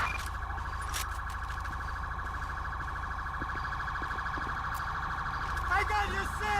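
Ambulance siren in a video game cutscene, a steady electronic wail held at a constant pitch for several seconds, with brief voice-like sounds near the end.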